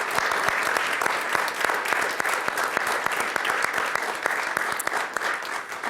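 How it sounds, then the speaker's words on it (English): An audience at a school district governing board meeting applauds honorees, a sustained round of dense, crisp claps heard up close, steady throughout with a faint crowd murmur. "They deserve a huge round of applause."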